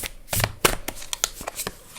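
A deck of tarot cards is shuffled by hand up close in several quick riffling bursts, with crisp flutters and taps separated by short pauses.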